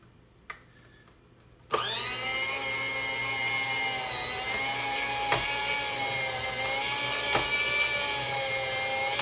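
An electric slicer whirs into life with a steady motorized whine while slicing Canada goose breast for jerky, running continuously and fairly close after a brief quiet start.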